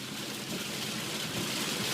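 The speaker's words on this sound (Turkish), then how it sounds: "Çok kötü yağıyor, çok." Heavy rain pours onto a car in a dense, steady, loud hiss without pause, heard from inside the vehicle.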